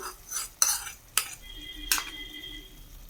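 A spoon stirs a raw banana gravy in a pot after a ground paste of cashews, poppy seeds and coconut has been added. A few sharp metallic clinks against the pot stand out over quiet scraping and faint bubbling.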